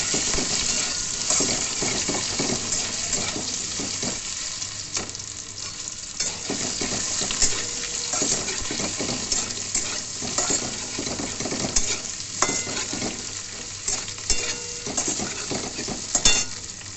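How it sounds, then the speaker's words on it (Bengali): Potatoes fry in hot oil in a kadai for alu matar, a steady close sizzle running throughout with occasional light clicks and scrapes from stirring, no voices. "এবার আমি কড়াতে তেল দিয়ে দিয়েছি। এবার আলুগুলো একটু ভেজে নেব।"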